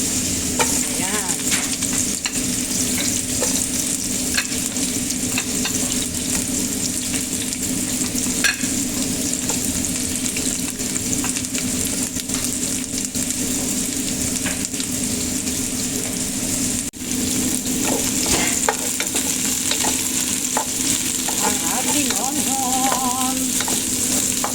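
Ingredients sautéing in a pan for Filipino paksiw na pata ng baka, likely onion among them, with a steady broad sizzle running throughout and occasional scraping or stirring clicks, close and continuous.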